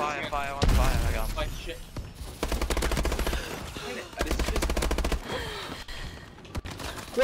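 Rapid automatic gunfire from a competitive shooter video game, with several sustained bursts separated by short pauses while a player calls out over the shooting.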